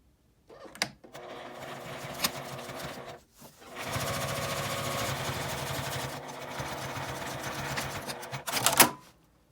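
A sewing machine stitches a matte laminate zipper pouch, starting in short whirring runs with brief stops and then settling into a long steady mechanical hum and rattle, ending with a louder final burst.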